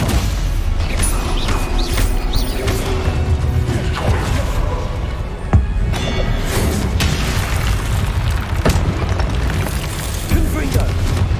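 Spell blasts and explosions in Hogwarts Legacy combat, repeated loud booms and bursts landing every second or two over a dense rumbling clash, with spoken incantations between the hits.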